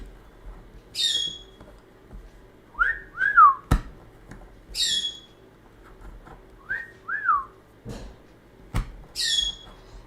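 Pet birds mimic a smoke alarm's low-battery chirp with short, high electronic-sounding beeps at regular intervals, with warbling whistles in between and a couple of sharp clicks, in a quiet room.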